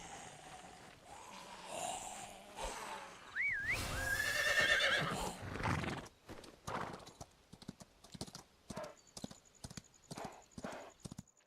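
A horse in the video game Chrono Odyssey whinnies loudly with a rising, wavering call, then breaks into galloping with steady rapid hoof clops close by.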